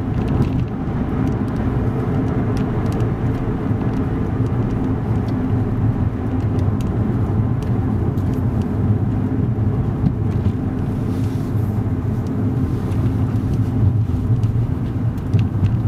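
Steady low engine and road rumble from inside a car driving a Milton Keynes test route during a driving lesson, continuous and fairly loud with no talk.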